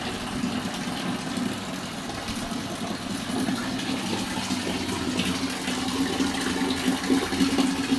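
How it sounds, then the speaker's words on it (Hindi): Water poured from a bucket in a home shower makes a steady, close gushing rush that lasts throughout and swells slightly toward the end, with no voices. "तो बाल्टी से ही पानी डालना पड़ता है।"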